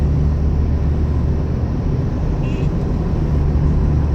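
Steady wind and tire roar inside a 1980 Ford Fairmont cruising down a road, a constant broadband rumble with very little engine sound.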